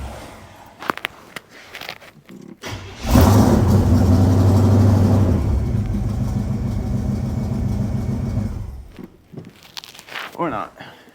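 A car engine with its distributor vacuum line unplugged cranks and catches, then runs at a rough, loud idle for several seconds before dying away. Someone talks nearby before and after it runs.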